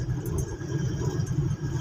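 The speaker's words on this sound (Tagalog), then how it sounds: "Uy, traffic dito." Steady low road rumble heard from inside a car in slow traffic on a road toward Baguio, a constant engine and tyre drone with no distinct events.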